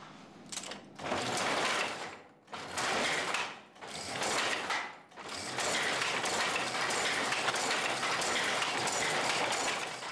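A weaving loom running while weaving a red carpet: a loud, dense mechanical clatter, broken by three brief pauses early on, then running continuously with nearby rattling and a gear-like rhythm and no talking.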